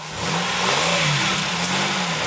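A car engine revs up under acceleration on rough ground near a rock, a steady mid-pitched drone that swells and holds close by, with no voices over it.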